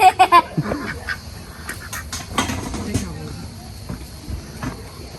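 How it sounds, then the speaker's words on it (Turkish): Ducks being fed quack in a short loud burst at the start, then softer scattered quacks continue over outdoor background noise. "Ay sen ördekleri mi besliyorsun Nina?"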